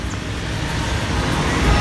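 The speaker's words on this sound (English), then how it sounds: "So we're in Homewood at the train station." Steady, loud rumbling ambience of a train station in Homewood, with a continuous low roar of rail and road traffic that swells slightly toward the end, and no clear voices.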